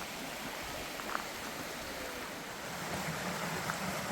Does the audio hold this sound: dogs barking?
no